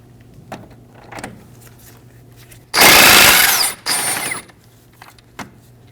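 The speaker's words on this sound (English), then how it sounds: "We are going to remove our outer tie rod nut using a 15mm on the impact gun." An impact gun with a 15mm socket removes an outer tie rod nut on a Ford Transit Connect, firing in two loud bursts, a long rattling buzz then a shorter one, between quiet clicks and shop noise.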